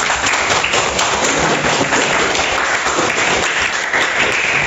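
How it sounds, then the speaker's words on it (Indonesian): Classroom applause during a trigonometry lesson, loud and close, with steady dense clapping from the whole room that keeps going without a break. "Kasih aplaus dulu"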